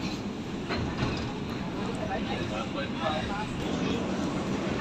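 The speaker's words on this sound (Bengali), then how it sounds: "এই যে বন্ধুরা মেট্রো করে আমরা যাচ্ছি।" A Kolkata metro train runs between stations, with a continuous rumbling, rattling carriage drone throughout and voices talking over it.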